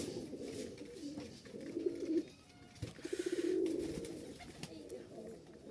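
Pigeons coo nearby in low, throaty, rolling bursts, two clear runs with brief pauses between them.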